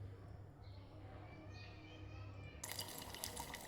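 Water is poured into a hot oil tempering for besan dhokla, bursting into a sudden loud, steady sizzling hiss partway through after a quieter stretch of kitchen background.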